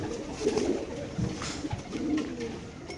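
Caged racer pigeons coo in soft, repeated low murmurs amid a busy market background, fairly close and steady with no clear talking.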